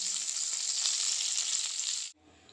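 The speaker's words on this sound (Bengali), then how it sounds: "এই পিঠটা ভাজা হয়ে গেছে। এবার আমি সবগুলোকে এইরকম করে সুন্দর করে উল্টিয়ে দেব।" Chicken sticks frying in a pan, a bright, steady close sizzle that cuts off abruptly near the end and leaves quiet room tone.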